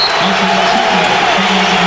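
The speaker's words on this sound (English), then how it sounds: "Reaction from the crowd" Arena crowd noise at a college basketball game, Michigan State against Michigan, a steady loud wash of voices reacting, with a broadcast commentator talking over it.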